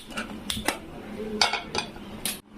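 A metal pan is set onto a gas stove before roasting peanuts, giving a few close, sharp clinks and knocks of cookware against the burner grate over a quiet room.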